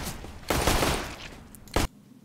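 Gunfire in the video game CS:GO: a short rattling burst of shots followed by a single sharp crack, fairly loud, with no talking.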